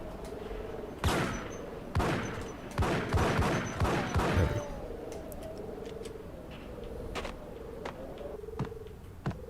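Gunshots from a Max Payne shootout ring out in a dense burst of several sharp, loud cracks over the first few seconds, followed by sparser, fainter shots and a low steady hum.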